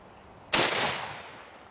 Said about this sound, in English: It's my Henry 4570 Government. Shoots this huge 400 grain bullet.